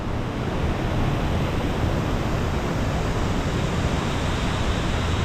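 Small waterfalls and a river at water level deep in the Grand Canyon, among trees. A constant, even rush of falling and flowing water, close and unbroken, with no voices.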